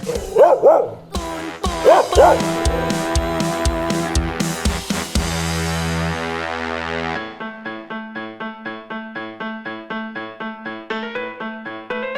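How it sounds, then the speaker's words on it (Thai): A dog barks a few times up close at the start, then rhythmic music with plucked and tonal notes takes over and continues alone. "มันคือเจ้าสุนัขนั่นเองค่ะ"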